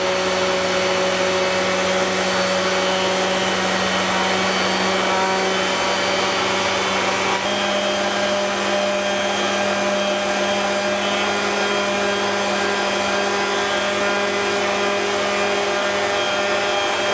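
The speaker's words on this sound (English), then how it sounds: "I chose to use a finish sander for a bit more control rather than a random orbit sander." A finish sander works gently over the veneered frames of a vintage oak cupboard door, giving a steady, continuous electric hum with a high buzzing whine that stays close and unbroken throughout.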